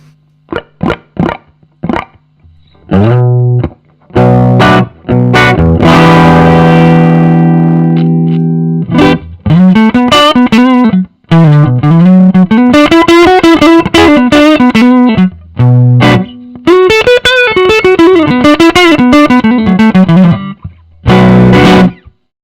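Electric guitar played through a budget valve amp, single notes and chords with sustained ringing, then busy melodic lines with bends; loud and close, mostly clean tone, no voices.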